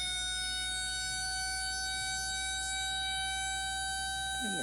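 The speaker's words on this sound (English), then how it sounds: "you want to ring the siren one more time?" A civil defense siren plays back from a recording, a loud, steady, sustained tone that holds without a break for several seconds, alone with no talk over it.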